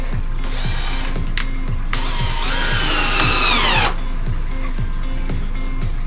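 A power drill drives screws into a 3/4 inch MDF top on a reef tank stand, whirring in short bursts over a steady background hum, with one longer, louder run in the middle.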